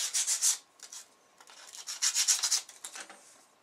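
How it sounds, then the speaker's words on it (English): Sandpaper rubs briskly along the edge of a marble tile in short bursts of raspy strokes, close and fairly quiet, with a brief pause between two runs of scraping. "Just take a sandpaper, burnish the edge again"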